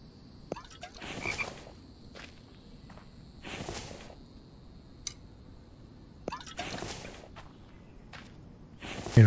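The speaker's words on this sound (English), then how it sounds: "Need to find that frog" Frog croaking in The Infected survival game, a few short croaks spread across a quiet background with occasional footsteps and faint dripping water.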